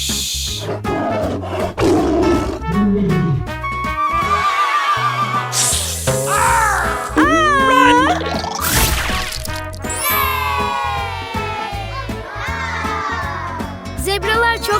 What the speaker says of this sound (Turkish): Bu bir aslan.